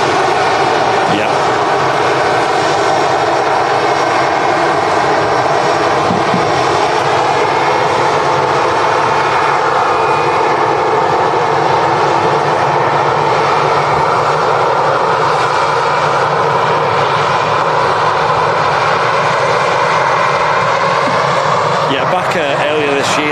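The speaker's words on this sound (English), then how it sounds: "7-minute flight for this Lingus A320." Aer Lingus Airbus A320 at Manchester Airport, its engines producing a loud, continuous jet roar and whine that stays steady throughout at close range, with a person talking underneath.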